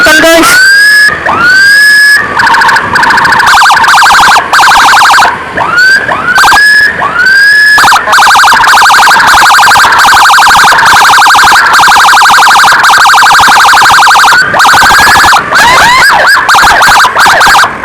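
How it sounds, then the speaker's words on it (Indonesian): An ambulance blares an unusual wailing 'devil' siren, loud and close, with repeated rising sweeps at first that settle into a steady held shriek before sweeping again near the end. "ambulansnya pakai sirine setan guys"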